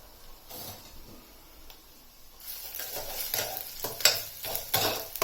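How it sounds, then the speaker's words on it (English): Garlic and ginger fry in hot oil. The sound starts quiet, then swells into a brighter sizzle with repeated scrapes and knocks of stirring, close and unvoiced. "We add a bit of garlic and a little bit of ginger, and then we fry these together"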